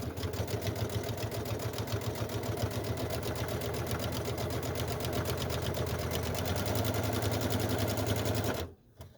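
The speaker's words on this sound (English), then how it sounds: "Remember again to back stitch, hold in those stitches." A sewing machine back stitching a seam about an eighth of an inch from a fold, running in one loud, steady rhythmic burr for most of the clip before stopping abruptly near the end.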